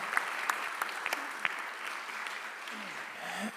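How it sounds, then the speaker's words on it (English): A round of applause for a team at a tunnelling awards conference, sustained clapping from the audience at moderate level, a few sharper individual claps standing out. "Maybe a big round of applause to the team."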